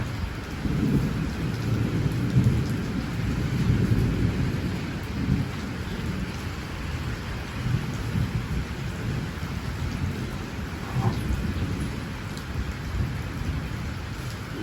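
Steady heavy rain falls on surfaces during a thunderstorm, with rolling thunder rumbling underneath, a dense continuous wash with no voices.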